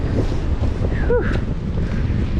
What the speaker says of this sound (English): This is like a winter day down here. Wind.